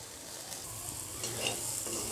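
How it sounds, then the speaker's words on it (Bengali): Shrimp and taro flower fry until lightly charred in a pan, giving a brief, steady, close sizzle with no talking. "ঠিক এভাবে একটু পোড়া পোড়া করে, হালকা পোড়া করে ভেজে নিতে হবে।"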